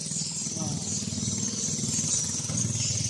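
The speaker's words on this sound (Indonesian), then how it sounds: "Perahu armada yang namanya Kato, mesin Kato." A Kato engine drives a wooden fleet boat heading out to sea in a Bugis village in West Kalimantan, a steady low drone running unbroken and fairly close, with voices talking over it.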